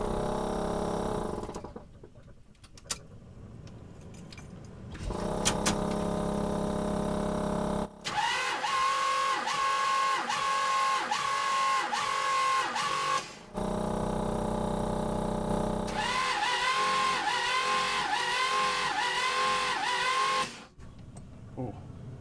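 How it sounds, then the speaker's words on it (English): A GMC motorhome engine cranks over with its spark plugs out for a compression test, giving two long runs of rhythmic starter chugging with quieter gaps and some talk between them. "let it crank over a few times until this kind of stabilizes and isn't going up anymore"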